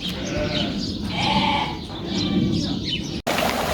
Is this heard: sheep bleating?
yes